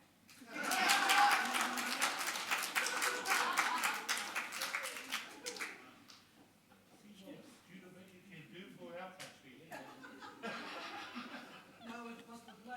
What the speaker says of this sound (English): Well, you can clap.